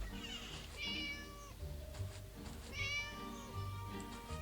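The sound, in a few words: cat meowing in a video game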